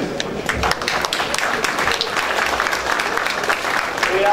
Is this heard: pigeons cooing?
no